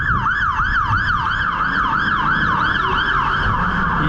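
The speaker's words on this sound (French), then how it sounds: "les sirènes, ambulances, pompiers, etc. C'est extrêmement fort." A loud wailing siren from ambulances and fire engines on a London street cycles rapidly up and down in a steady repeating pattern, close and continuous.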